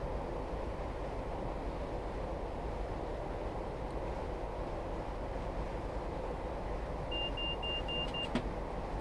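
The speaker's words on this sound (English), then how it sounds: "Got the beep beep beep there." Inside a Class 158 cab in Train Simulator between Manchester Piccadilly and Sheffield, a quick series of short, high warning beeps sounds near the end over the constant low rumble of the running train.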